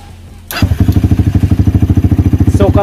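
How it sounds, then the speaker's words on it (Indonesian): A Honda XR200 motorcycle engine cranks and catches after half a second of near silence, then settles into a loud, steady, rapid idle thump close by. "So, i-start natin yung motor ni sir, no?"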